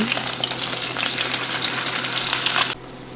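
Eggs sizzle and crackle steadily in a hot frying pan, a loud, dense spitting hiss that runs continuously before cutting off abruptly near the end.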